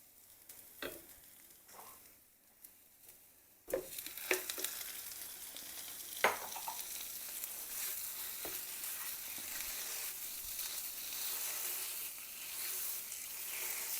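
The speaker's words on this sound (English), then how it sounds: "And I'm going to add my sausage." Sausage dropped into a hot pan for sausage-stuffed acorn squash: a few soft knocks, then a burst of sizzling that settles into steady frying with occasional stirring, no talk.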